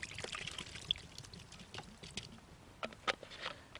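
Liquid pours into 1.5 litres of water for fishing groundbait with a soft, continuous splashing trickle, quiet and close, without any talking.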